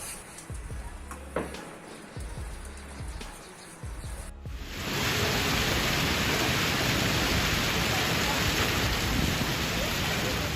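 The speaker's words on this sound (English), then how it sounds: "Severe hail batters central Iowa ice pellets, ricocheting off the ground" Hail batters the ground in central Iowa, starting suddenly as a dense, loud roar of ice pellets that continues without letup, after quieter outdoor sounds.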